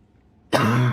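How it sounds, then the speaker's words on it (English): A single sharp, close cough bursts out abruptly after a moment of near silence, loud and harsh, like a throat-clearing hack. "I have to remember to actually mute myself when I'm coughing"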